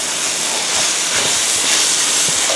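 Shrimp and ginkgo nuts stir-fry in a pan with a loud, dense, steady sizzle and hiss, and soft rhythmic tossing and scraping sounds come through underneath it.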